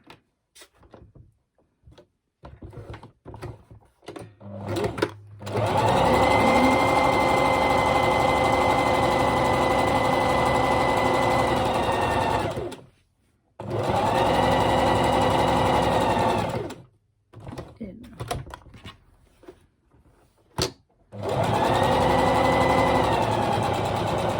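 A sewing machine stitches fabric for a fabric rose at just over 2 mm stitch length, running in three long steady whirring bursts with short quiet pauses and faint handling clicks between them.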